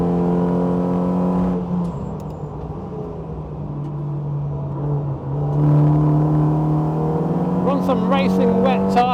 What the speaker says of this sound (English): Some racing wet tyres that we are probably currently decimating.